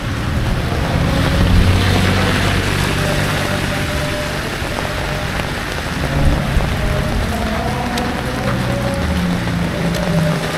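Heavy rain with thunder falls at Dieng, a dense continuous roar of rain with low rumbles and scattered sharp drops, loud and close, with no talk.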